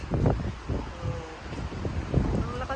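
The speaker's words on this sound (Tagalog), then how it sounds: "Ang lakas ng hangin." Strong wind gusting outdoors in Vallejo, California, buffeting the microphone in uneven rumbling bursts, with rustling close by and no clear talk.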